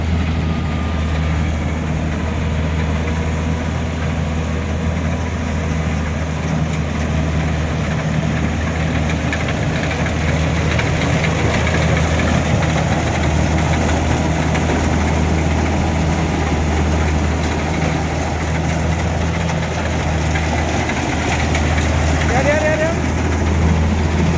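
A combine harvester's engine idles steadily in a loud, continuous, low rumbling drone that holds unchanged from start to finish with no pauses.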